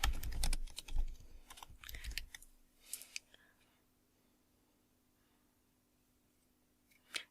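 Rapid keyboard typing on a computer, a burst of close clicking keystrokes for about two seconds, then a few scattered taps before near silence and one final key press.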